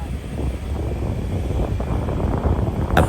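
Steady, rushing wind buffets the microphone throughout on the summit of Mount Matalim in Marinduque, a broad low roar with gusts that swell slightly near the end; no voices.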